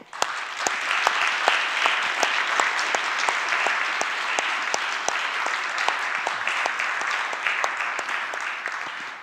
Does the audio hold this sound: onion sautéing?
no